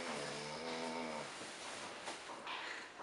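A person snores softly in sleep, one low drawn-out breath rumbling for about a second, then fading into quiet breathy room noise.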